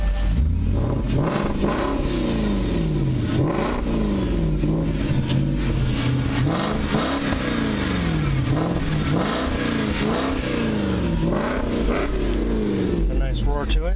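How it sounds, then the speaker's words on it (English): A red 2010 Porsche Cayenne S with 7k miles sends out a loud, close exhaust roar as the engine is revved repeatedly, each rise and fall of pitch following the last in a steady rhythm. "Alright, I'll let you hear the exhaust here as I hit it."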